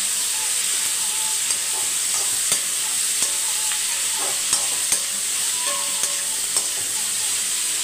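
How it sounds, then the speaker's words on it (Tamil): Onions and tomatoes fry in a pan as a spoon stirs them, giving a steady loud sizzle and hiss with scattered scraping clicks throughout, no talking. "இப்போ பார்த்தீங்கன்னா வெங்காயமும் தக்காளியும் நல்லா வதங்கிடுச்சு"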